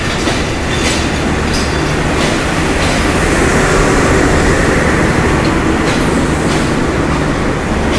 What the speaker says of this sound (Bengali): তো নীলসাগর এক্সপ্রেস 3টি এসি চেয়ার, একটি এসি কেবিন, 2টি গার্ড ব্রেক, একটি পাওয়ার কার, নামাজ ঘর, শোভন চেয়ার এবং একটি লাগেজ ভ্যান নিয়ে চলাচল করে